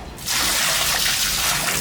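Water is dumped out into a runoff area in Cebu, Philippines, a sudden loud rushing pour that starts abruptly after a brief quiet moment and continues steadily at close range.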